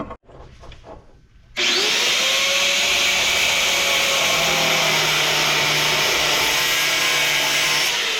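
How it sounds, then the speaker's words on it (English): Angle grinder cutting into scrapped HVAC parts: after a second of quieter handling, a loud, steady whining grind starts and runs continuously, close up. "I think I'm gonna have to get my grinder out."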